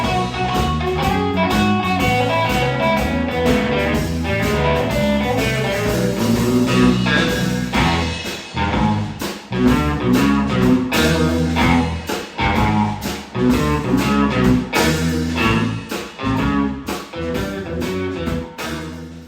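A three-man live band plays in a New Orleans bar, loud and steady, with drums, bass and chords driving a continuous groove and dense rhythmic hits throughout.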